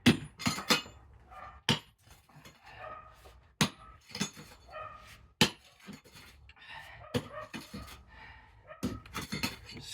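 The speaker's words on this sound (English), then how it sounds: "Just scrape the soil away" A tool scrapes soil away during a dig, giving irregular sharp clinks and scratchy scrapes against stones, close and fairly quiet, with short pauses between strokes.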